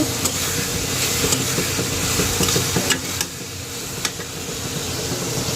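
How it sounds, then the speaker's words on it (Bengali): Shrimp frying in a pan with a steady, close sizzle and crackle, a few louder pops and stirring scrapes standing out, no voices. "চিংড়ি মাছগুলো একটু ভেজে নিচ্ছি"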